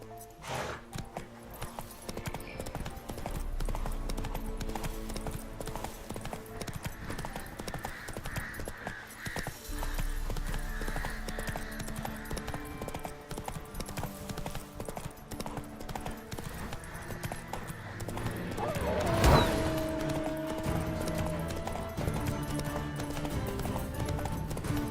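Roach, the horse in The Witcher 3, gallops with a steady, rhythmic clip-clop of hooves that stays fairly quiet and continuous, with a brief louder burst near the end.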